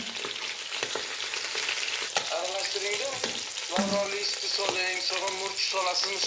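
Rabbit meat frying in a pan for a kebab, a steady close sizzle with stirring clatter and scraping throughout, no talk over it.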